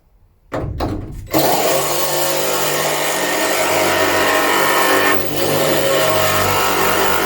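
A power drill whirs up after a couple of short starts, then drills holes in a van body, running continuously with a loud, steady high-pitched drone, close by.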